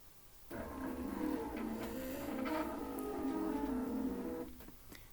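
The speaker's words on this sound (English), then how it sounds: "So what I'm going to do is have my machine trace forward." A computerized quilting machine traces forward along existing stitching, giving a steady mechanical whir with a low motor hum that starts abruptly, runs evenly for about four seconds at close range, then stops.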